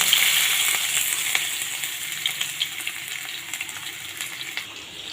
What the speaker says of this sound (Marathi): आता यामध्ये आपण कांदा भाजू